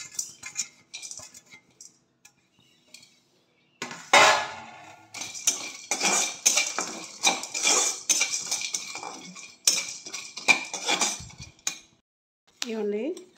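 Almonds are roasted in a pan for homemade garam masala, with a spatula scraping and clinking against the metal in irregular bursts, close up, separated by short quiet gaps.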